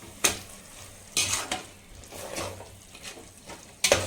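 Biryani masala mixed with curd stirred in a pan for egg biryani, a spoon scraping in sharp bursts over a low, steady sizzle of hot oil, close and clear with no talking.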